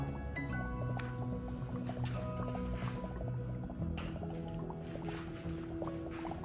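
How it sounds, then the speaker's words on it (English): Hydrogen gas bubbles forming as a liquid chemical reacts with aluminum, a soft irregular fizz and dripping patter under a steady hum and background tones, fairly quiet and close. "Look at those hydrogen bubbles."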